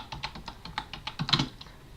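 A short burst of typing on a computer keyboard entering a terminal command, about a dozen quick, close key clicks in an uneven rhythm.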